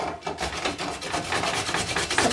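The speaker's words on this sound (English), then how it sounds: "what I'm going to do next now is grate the carrots" Carrots are rubbed quickly against a kitchen grater in a rapid, even run of rasping strokes, close and fairly loud with no talking.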